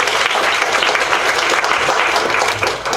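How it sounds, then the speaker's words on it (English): A crowd at a school district board meeting applauds loudly and continuously, dense clapping that holds steady for several seconds. "Let's give Curtis a round of applause."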